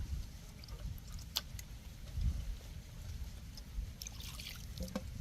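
A little water is poured into a coconut-oil-greased pot of small kola fish. Short, close trickling and splashing mix with low knocks and handling noise, and no one speaks.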